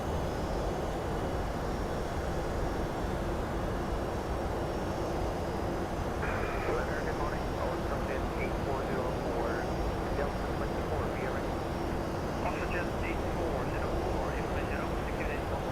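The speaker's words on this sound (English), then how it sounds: "Wow, that's the slowest flyby ever." A Boeing 757-200 in X-Plane 12 makes a slow cinematic flyby on a cloudy day over the UK, its engines a steady broadband rumble and roar that persists without pause as faint voices and other sounds come and go.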